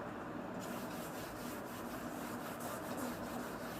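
Writing is rubbed off a classroom board with an eraser, giving a faint, continuous scrubbing sound that runs steadily for a few seconds.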